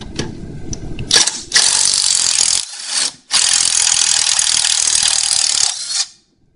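A ratchet wrench whirs in rapid clicking bursts while removing 9/16 nuts from a vehicle's steering idler arm, loud and close, with two longer runs broken by short pauses.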